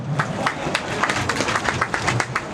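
An audience claps for the President of the Republic at a 50th-anniversary celebration of IFASIC, with scattered, distinct handclaps in a steady, moderately loud round of applause.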